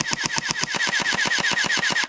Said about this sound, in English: Now let's see how fast this blaster shoots.